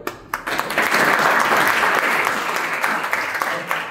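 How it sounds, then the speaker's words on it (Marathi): Sustained audience applause at a school science lecture, a dense steady wash of many hands clapping that swells in quickly and holds at full strength throughout. "त्याच्यात एक छान टाळ्या वाजवत"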